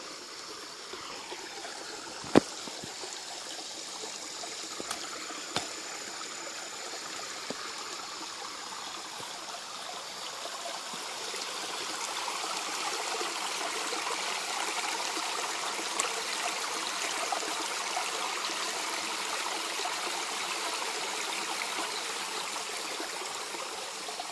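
A woodland stream trickles and burbles steadily over its bed, a continuous soft wash of moving water that swells slightly partway through, with a few faint clicks and no voices.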